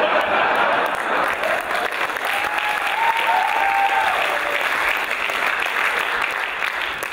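Audience applause fills a room in steady, dense clapping at close range, holding a full level throughout with faint crowd murmur underneath.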